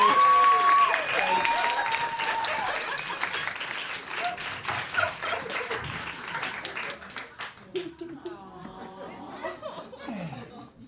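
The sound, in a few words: audience applause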